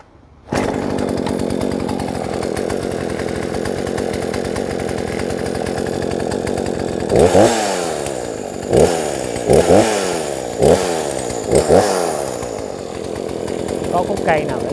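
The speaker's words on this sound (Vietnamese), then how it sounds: "Và bây giờ mình sẽ cưa test thử một cái khúc gỗ gỗ thông" Used Japanese chainsaw test-cutting a pine log: the engine idles with a steady buzzing drone, then revs hard in a series of loud, repeated bursts as the chain bites into the wood.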